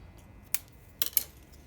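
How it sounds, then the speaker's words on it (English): Scissors snip through the strings holding dried persimmons: three crisp, close cuts, one alone and then two in quick succession, with no talking. "So now what I'm gonna do is I'm gonna cut the strings."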